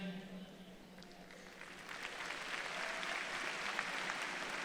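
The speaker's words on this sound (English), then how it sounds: "Mayor Philip Jones, please stand for a round of applause." Crowd applause for the mayor at a commencement ceremony, faint and distant, building gradually over a few seconds with a low voice beneath it at the start.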